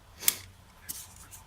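Two short, faint snips or cuts a little over half a second apart as a dull blade slices through diorama material for a concave curved accent piece, close by with quiet room background.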